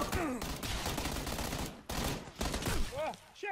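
Rapid bursts of Uzi submachine gun fire in the video game PUBG, loud and close, coming in several sustained volleys with brief gaps, and other game sounds mixed in.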